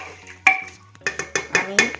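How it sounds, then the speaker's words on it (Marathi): Saoji mutton curry being stirred in a pot, a spoon scraping and knocking against the metal in several sharp clinks and scrapes, close and fairly loud, with faint murmuring between strokes. "तर आपण एकदा आता हलवून घेऊ"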